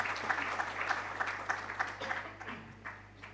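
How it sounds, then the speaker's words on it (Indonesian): Congregation applause during a church worship service, a quiet, moderately dense patter of clapping that thins out toward the end. "Berikan tepuk tangan"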